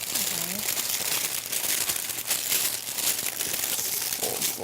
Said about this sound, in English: We're trying to overlap the paper here and just start folding.